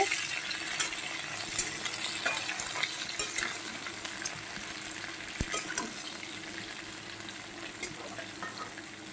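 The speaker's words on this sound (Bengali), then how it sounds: "দু মিনিট একটু কষিয়ে নিই" Drumstick vegetables and bori lentil dumplings sauté in a pan, giving a soft continuous sizzle with occasional utensil scrapes and taps, moderately quiet and without speech.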